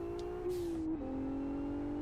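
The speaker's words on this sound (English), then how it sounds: "Turbo sounds." Turbocharged six-cylinder car in the Live for Speed racing game: a short engine rev whose tone dips and rises with gear changes, with faint whooshing turbo bursts on top, close and alone.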